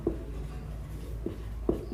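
Writing on a board during a stress and strain lecture, a few soft scratchy strokes and taps spread irregularly over a couple of seconds, close against low room noise with no talking.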